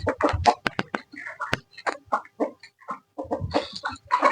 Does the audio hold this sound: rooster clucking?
yes